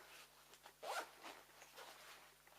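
A small zipper is handled up close on a bag being taken apart for recycling, giving a few faint, quick zipping strokes and rustles in a quiet room.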